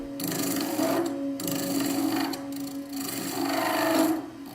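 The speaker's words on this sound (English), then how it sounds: "Here I'm just using a skew chisel to take down the thickness." A skew chisel shaves down a spinning ebony ring on a wood lathe, producing a close, steady motor hum overlaid with scraping, rasping bursts of cutting that swell and fade every second or so.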